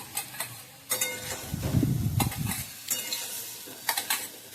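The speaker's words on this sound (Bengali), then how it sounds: "আলু পেঁপেগুলো একটু ভেজে কিন্তু তুলে নিচ্ছি" Potato and papaya pieces fry in a pan as a spatula scrapes and stirs them in repeated strokes, over a soft, close sizzle of oil.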